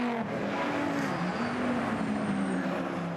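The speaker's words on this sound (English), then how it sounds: "The big V12 power of the Aston Martin isn't quite enough to get through at turn 8 on Angelo Lazaris in the Lotus." GT race cars, including an Aston Martin V12, race at the Clipsal 500 street circuit, a steady loud engine drone with shifting pitch as the cars power through a turn, continuous and close.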